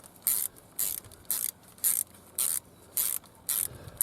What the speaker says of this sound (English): Not sure if that was a bolt cracking or my ratchet.